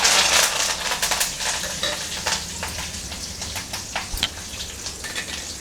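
Curry leaves hit hot oil just after mustard seeds have spluttered, giving a loud crackling sizzle at first that eases into a steady, lighter frying hiss with scattered pops.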